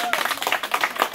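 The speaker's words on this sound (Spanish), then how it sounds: "Desen un aplauso" Audience applause in a short, brisk burst of rhythmic clapping, fairly close and moderately loud, with talk mixed in.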